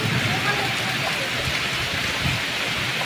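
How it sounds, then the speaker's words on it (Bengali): Heavy rain falls during a hailstorm as a dense, loud, unbroken roar of drops pounding close by, holding steady throughout. "এত মানে বৃষ্টির ছাট আসছে"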